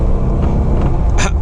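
A Jeep JL on 20-inch wheels and 35x12.5 mud tires pulling away, a loud, steady engine roar with tire hum, close by and continuous for a brief moment.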